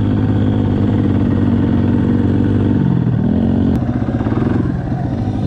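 A dirt bike being ridden on sand gives a loud, close, steady engine drone that dips and changes pitch partway through, with a brief clatter and no talking over it.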